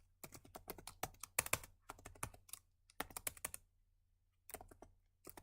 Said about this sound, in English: you just type